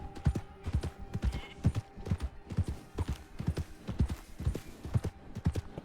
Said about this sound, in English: there are 2 horses in the office